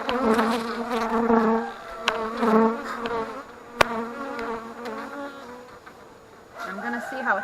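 Agitated honeybees buzzing loudly around an opened hive during an autumn inspection in New Hampshire, a wavering swarm drone that swells and fades with individual bees passing close.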